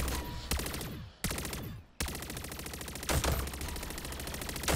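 In a zombie shooting video game, dense automatic gunfire rattles in long sustained bursts with a couple of sharp breaks and heavy single reports, loud and close with no talk.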